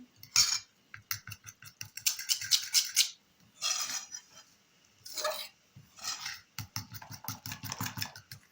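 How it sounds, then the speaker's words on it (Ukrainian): Rapid rhythmic clinking and scraping of a whisk against a bowl as eggs and flour are beaten into batter, in quick bursts, pausing briefly between rounds, close and fairly quiet. "і збиваємо наші яєчка"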